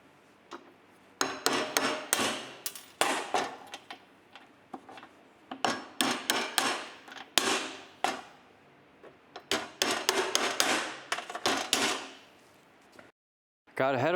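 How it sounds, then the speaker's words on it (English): Push nut bolt retainers being tapped onto a vehicle firewall during air conditioning installation, a series of sharp knocks and clicks in irregular bursts, close and fairly loud, with a short pause near the end. "sticking these push nut bolt retainers on"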